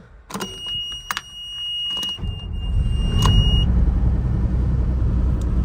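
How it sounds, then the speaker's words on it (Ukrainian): Several sharp clicks and a warning beep, then a John Deere 1166 combine harvester engine, slightly warmed up, turns over and starts, building into a loud, low, continuous rumble up close. "Зараз запустимо двигун."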